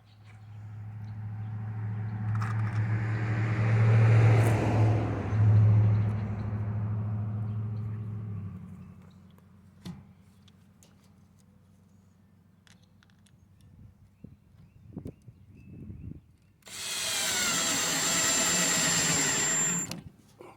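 A cordless drill with a weakening battery drives screws while building a soil screen. It gives a loud sustained whir that fades out, followed by scattered clicks and knocks, then another short burst of motor noise near the end.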